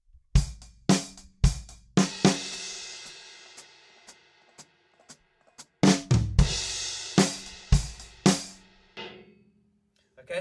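An acoustic drum kit plays the groove, with sharp cymbal and snare hits, a pause, then the fill leading into the verse, loud and alone.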